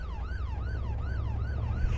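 An ambulance siren in the video game ArmA 2 wails in a steady rising and falling cycle, repeating about four times, loud and continuous over a low engine rumble.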